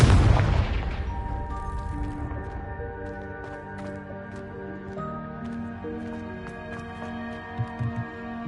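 Confringo fire-blast spell from the Hogwarts Legacy video game: one loud booming explosion at the start, then a long ringing, shimmering magical decay with faint sparkling tones and small pops near the end.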